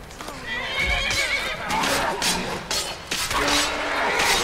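A horse in the video game Skyrim neighs and whinnies loudly, with hooves clattering and a few thuds around it.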